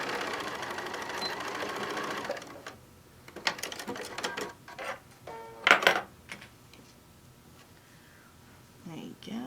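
A sewing machine runs a straight stitch on an apron tie in a steady burst at the start, followed by shorter bursts, clicks and handling noises nearby.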